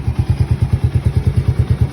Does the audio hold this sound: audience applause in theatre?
no